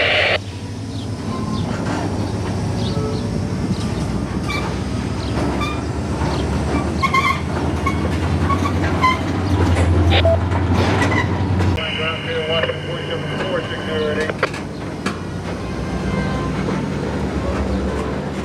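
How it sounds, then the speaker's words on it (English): CSX diesel locomotive T6088 switching rail cars on Miami's East Rail in 2022 gives a continuous low engine rumble alongside rolling wagons, wheel clatter and brief squeals, close and loud throughout, with a voice speaking over it. "at least we have the sound of the E&D prime movers on CSX-T6088 to keep us entertained"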